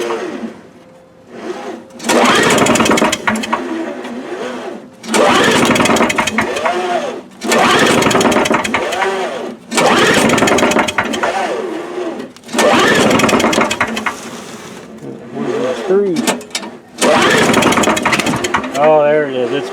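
A 1984 Craftsman snow blower engine cranks in repeated bursts of a few seconds each, with short pauses between them, loud and close, as it tries to catch and fire.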